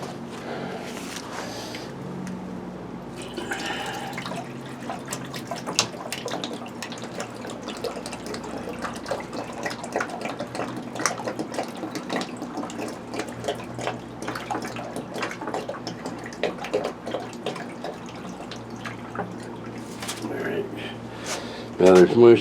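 Water is poured into a sump pump pit after the pump has been reinstalled and its line cleaned out, a steady splashing and trickling that runs throughout beneath someone talking.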